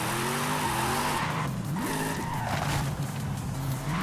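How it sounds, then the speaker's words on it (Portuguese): A car drifts in the racing video game Forza Horizon 5, with a steady roaring engine and continuous tire squeal, the engine pitch sweeping up and down through gear changes, loud and constant with no talking. "Eu não sei fazer muito bem drift no Forza."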